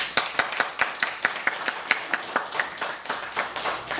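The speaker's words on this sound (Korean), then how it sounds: "홍암에게 감사하는 마음으로 박수 한번 칩시다." A congregation at a Daejonggyo religious service claps hands together in a quick, steady rhythm of sharp slaps that lasts several seconds, with no talking over it.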